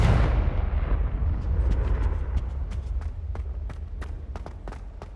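Confringo fire spell cast in Hogwarts Legacy on PS5, a loud booming blast at the start that rumbles and fades, followed by a string of sharp crackling pops and snaps.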